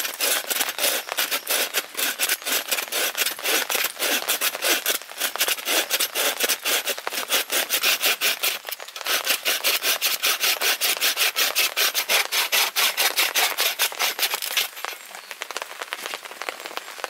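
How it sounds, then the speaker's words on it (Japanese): Hand saw cutting through wood at a rainy campsite among cherry blossoms, a fast steady rasp of back-and-forth strokes, loud and close, with a brief pause partway through. "ああいうハンドのノコギリより刃がでかいから、あんまりこう下に押さえつける力がなくて"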